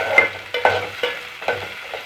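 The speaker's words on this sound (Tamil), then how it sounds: "இந்த வெங்காயம் கொஞ்சம் கோல்டன் ஃப்ரை ஆகிற வரைக்கும் வதக்கி விட்டுட்டே இருங்க." Onions sautéing in a pan over low flame, a soft sizzle broken by a few distinct scraping stirs of a spatula, close up and moderately loud, no voices.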